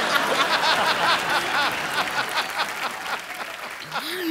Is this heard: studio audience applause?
yes